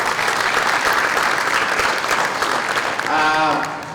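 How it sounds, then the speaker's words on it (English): Audience applause fills a school athletic signing ceremony, a dense steady wash of clapping with a few voices calling out near the end as it begins to fade. "let's give her a round of applause on her"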